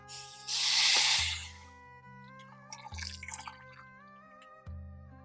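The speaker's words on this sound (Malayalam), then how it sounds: "ഞാൻ ഇവിടെ വെള്ളം ഒന്ന് ചൂടാക്കി വെച്ചിട്ടുണ്ട് അത് നമുക്ക് ഒഴിച്ചു കൊടുക്കാം" Hot water is poured into rice for chicken biryani in a short, loud hissing gush, followed by a softer splash and some faint dripping.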